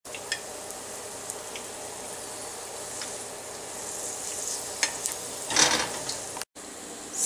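Sweet roti frying on a pan until golden brown, giving a steady soft sizzle throughout with a few light scrapes and clicks near the end.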